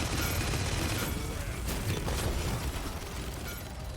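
Ruckus, a mech hero in the video game Paladins, fires missiles in a sustained, dense rattling barrage of small bursts and pops over a low mechanical rumble, steady and loud throughout.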